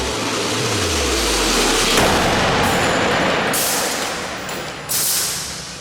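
Hydrogen-fuel bus slamming into a barrier in a collision crash test, a loud broadband impact with a deep rumbling boom that trails off, followed by sustained noisy roar and a later burst.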